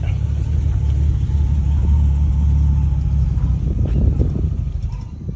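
Rumbling engine of an older car being driven, a heavy steady low drone that stays loud and close throughout, with slight swells as the engine works, no talk.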